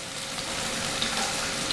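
Chopped shallots and curry leaves hiss and sizzle in a hot pan of oil for a Kerala-style duck curry, a steady, close, dense frying crackle with no voices.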